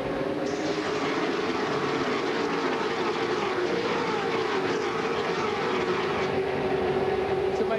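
NASCAR stock cars roaring away at the start of the 2006 Pepsi 400 night race at Daytona, a dense, steady engine roar that stays loud throughout with crowd and track noise mixed in.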